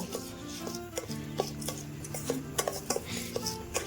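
Soft scraping and stirring of washed rice with ghee in a metal bowl for payesh, occasional light clinks, a steady moist rubbing texture close by and no talking.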